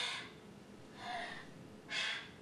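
Three separate breaths, the last one sharp and audible, like deep inhales and exhales taken close up in a quiet room.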